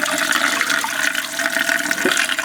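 Cold water runs steadily and fairly loud into a pot, a continuous rushing gush with no talking.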